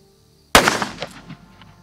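A Ruger Blackhawk revolver fires a single heavy .45 magnum load outdoors: one loud, sharp report midway through, then a decaying echo tail, with no talking.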